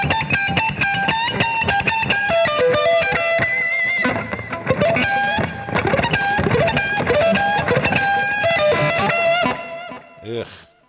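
Distorted electric guitar with gritty, saturated chords through a simulated distortion box in Overloud TH3 amp-sim software, played continuously, loud and close, fading out near the end.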